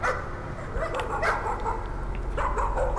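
A dog in the Layers of Fear horror video game barks and whimpers in short, loud yelps and whines over a low rumbling game ambience, close and repeated across the moment.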